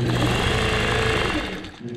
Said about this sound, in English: I'm going to kind of back stitch and forward stitch so I lock in on top of those stitches